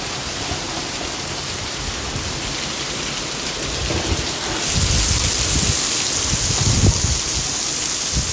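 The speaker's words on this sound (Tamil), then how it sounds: "தண்ணியா ஊத்திக்கிட்டு இருக்கு மழை." Heavy monsoon rain pouring steadily during a weather change in Maharashtra, a dense continuous roar that swells louder midway, with low rumbles mixed in.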